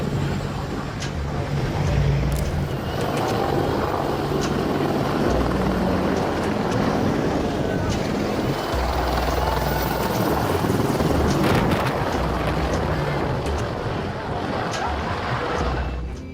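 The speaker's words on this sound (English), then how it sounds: "Few sounds can match the powerful roar of heavy Chinook and Apache helicopters taking off." An RAF Boeing CH-47 Chinook heavy twin-rotor helicopter taking off, a loud, continuous roar with a deep rotor throb and broad turbine rush holding steady throughout, close by and with no talk.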